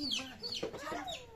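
Hens and young chicks on a rural Bengali homestead, clucking and peeping in short, close calls that rise and fall over about a second and a half, with no one speaking.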